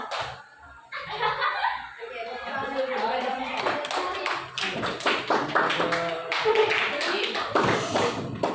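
Indonesian classroom clapping chant game with teacher and students clapping in rhythmic patterns, sharp claps in bursts mixed with chanted voices throughout.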